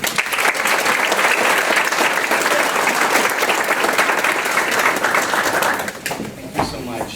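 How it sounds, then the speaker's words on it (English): An audience at a school board meeting applauds students receiving awards. Loud, dense clapping holds steady for several seconds, then thins out near the end as a voice begins. "let's give another round of applause"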